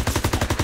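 A machine gun firing from a hayloft at a farmhouse in the World War II shooter Call of Duty WW2, a rapid, even burst of about seven loud, close shots.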